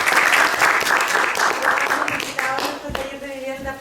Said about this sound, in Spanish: vamos a dar un gran aplauso de agradecimiento